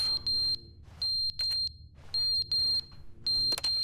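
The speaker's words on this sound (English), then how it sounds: "An alarm going off?" An alarm blares in The Stanley Parable video game as repeated high-pitched electronic beeping bursts in a regular on-off rhythm, loud and insistent.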